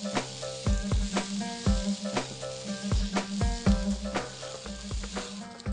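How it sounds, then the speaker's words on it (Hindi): Paneer frying in a pan with a steady sizzle, struck by repeated loud, close knocks of a utensil against the pan in an uneven rhythm, with no voices. "थोड़ा सा फ्राई करते हैं, आपने पनीर को थोड़ा सा गोल्डन करना है।"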